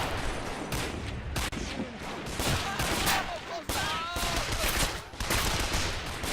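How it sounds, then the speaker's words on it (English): Dense, continuous gunfire from German troops firing from a window in Men of War: Assault Squad 2, a steady clatter of rapid shots and bursts layered with background battle noise, loud and sustained throughout. "the British are already taking fire from German troops hiding in the window over here"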